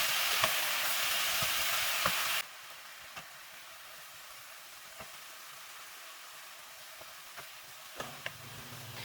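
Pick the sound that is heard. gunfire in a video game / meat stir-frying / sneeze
meat stir-frying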